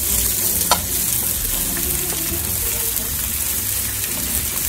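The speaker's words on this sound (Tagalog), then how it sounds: "Pag nag-iba na ng kulay ang ating onion at garlic, ilalagay na natin ang ating chicken feet." Chicken feet frying in a pan with onion and garlic, giving a steady, dense sizzle throughout with occasional stirring scrapes.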